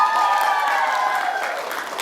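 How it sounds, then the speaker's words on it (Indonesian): Audience applause and light cheering for PKS supporters at an Indonesian election outreach event in Hong Kong, a steady, moderately loud wash of clapping lasting the full two seconds with no speech over it. "Tepuk tangan dulu untuk PKS."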